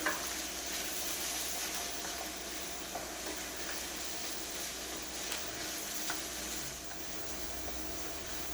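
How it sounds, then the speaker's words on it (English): Breakfast pizza topping sizzles and crackles in a hot pan while being stirred, a loud, steady, close frying hiss that runs the whole time with no talking. "Let's give him a stir."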